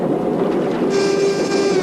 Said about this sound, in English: Boomer, try your engine now.